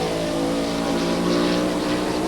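Jackson's Skoal Classic Ford Thunderbird NASCAR stock car roars steadily past on a 1995 qualifying lap at Bristol's short track, a loud, sustained engine drone with no pause.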